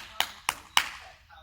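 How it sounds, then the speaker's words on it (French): Three sharp, separate hand claps ring out close and evenly spaced during a parent-and-child gym class, followed by a brief quiet tail. "je pense qu'on peut s'applaudir super fort"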